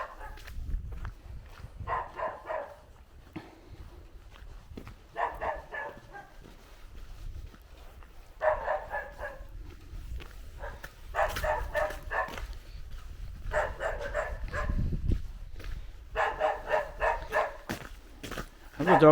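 A dog in a village garden in Bulgaria barks in repeated short bursts at moderate distance, with quieter gaps and low rumbling background noise between the volleys.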